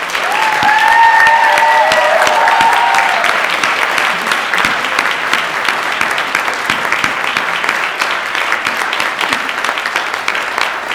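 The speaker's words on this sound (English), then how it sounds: "One more round of applause." Sustained applause from a crowd, steady and dense clapping filling the whole stretch, with a few brief whistles near the start.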